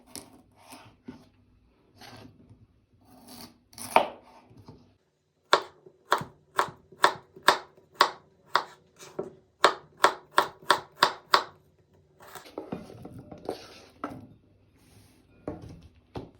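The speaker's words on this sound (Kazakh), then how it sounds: "Одан кейін балған қиярды тураймыз" A knife slices pickled cucumber for a salad, giving a quick, even run of about a dozen crisp chops on a board, close and clear, after a few scattered softer taps.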